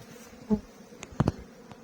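Bees near hives after the last goldenrod honey harvest, heard outdoors as a low, quiet buzz with a few brief louder passes of single insects close by.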